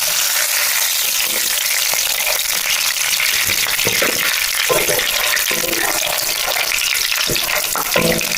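Whole spices, cinnamon and cardamom, stirred in hot fat in a pan for a Kerala-style egg kurma, a close, continuous sizzle with scattered clicks and scrapes from stirring.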